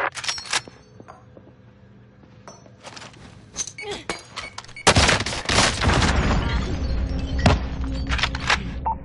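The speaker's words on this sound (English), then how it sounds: "Calling for airstrike on my target." A called-in airstrike hits a target in a military shooter game, with sharp crackling impacts, glassy clinks and sudden loud booming bursts that swell into a sustained rumbling barrage in the second half.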